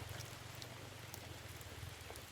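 Steady rain pours down outdoors in the Philippines, a dense continuous hiss with a low rumbling undertone and scattered drops, no voices.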